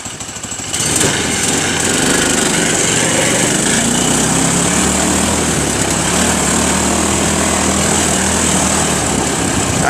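A Predator 212 engine on an ATV revs up after a brief quiet start and holds a loud, steady, buzzy drone close by while the machine is ridden, with no talk over it.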